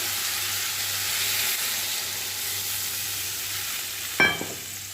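Boal fish pieces sizzle in a hot pan, a strong, steady frying hiss with a sharp clatter of a utensil near the end.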